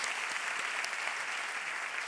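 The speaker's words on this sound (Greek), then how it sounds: "Και τις χειροκροτούμε" Audience at the Madame Figaro Women of the Year 2021 awards ceremony applauding steadily, a dense continuous clapping that fills the room without a break.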